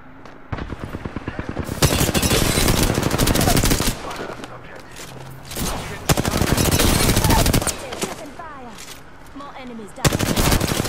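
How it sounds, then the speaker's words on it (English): Loud, rapid bursts of automatic gunfire in a video game, firing in long volleys separated by brief pauses, with a voice speaking at times between them. "Listen up, I'm getting shot at."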